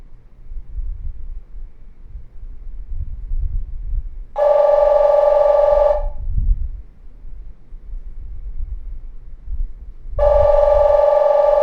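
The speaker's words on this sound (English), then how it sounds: "Grandma's phone's ringing and she probably can't hear it." A landline telephone rings in two long bursts a few seconds apart, loud and near, over a quiet background of low rumble.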